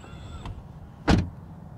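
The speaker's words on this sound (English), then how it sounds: "Door open and close sound from the outside." Outside a 2021 Ford Mustang Mach-E, a door opens with a faint latch click and then closes with a single solid thump, close and clear against quiet surroundings.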